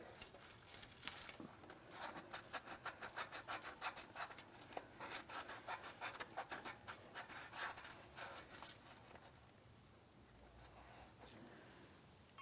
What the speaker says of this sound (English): For this, I'm just using a piece of fine sandpaper. We'll give the mounting port a light scuffing